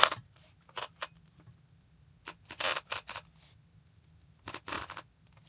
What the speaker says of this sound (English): So you just slide the belt like a traditional belt, but you'll have a nice little clicking sound.